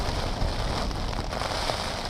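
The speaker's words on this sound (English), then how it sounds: "today it's raining" Steady rain falls during a wet day along the Camino de Santiago, a dense, even hiss of drops on surfaces, close and continuous with no voices.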